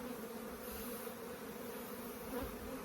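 Honey bees buzz at an open hive during a colony split, a steady soft droning hum from many insects close by with no voices.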